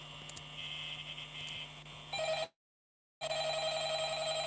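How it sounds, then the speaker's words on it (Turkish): An in-game telephone rings in the horror game Five Nights at Freddy's with steady, bright electronic ringing and no voices. The ring cuts out briefly into full silence, then resumes at the same level. "Telefon."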